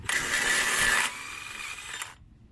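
An impact wrench with a 36mm socket spins out a hub bolt on a 1997 Jeep Cherokee in one short, loud, close rattling burst that drops to a lighter whir before cutting off.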